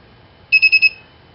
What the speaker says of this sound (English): when you get an incorrect card, the indicator turns on and the buzzer beeps 3 times